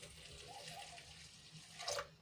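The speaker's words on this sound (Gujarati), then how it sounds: "હવે એમાં આપણે થોડુંક પાણી એડ કરીશું" Water poured into a pot of grated soap for homemade dishwashing liquid, mixed with salt and vinegar; a quiet, brief trickling and splashing, with a slightly louder splash near the end and no talk.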